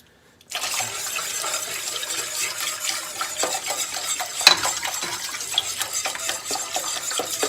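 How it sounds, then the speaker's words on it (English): Vegetable stock is whisked into a pot with rice, giving a steady close-up wet swishing and scraping that runs without pause, with light clinks of the whisk against the pot. "Let's go ahead and whisk that in as we go."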